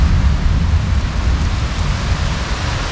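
Rain falls steadily at an old Tupi-Guarani village, a dense, even hiss of rain on surfaces with a low rumble underneath, close and continuous, with no voices.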